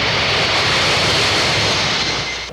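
A passenger jet arriving at Frankfurt airport makes a loud, dense engine roar that fills the air steadily and fades slightly toward the end, with no voices.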